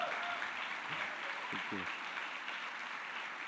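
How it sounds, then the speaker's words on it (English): A graduation audience at an MBA ceremony applauds, a soft, distant wash of clapping running throughout while a voice speaks briefly over it. "A round of applause."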